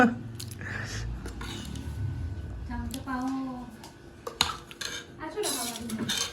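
A metal ladle clinks and scrapes against a pot in quick, irregular bursts, close by, while people talk over it.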